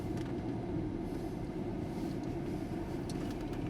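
A festively illuminated tram runs through Wrocław in the evening, giving a steady low rumble with rolling rail noise and occasional faint squeals, continuous and fairly close.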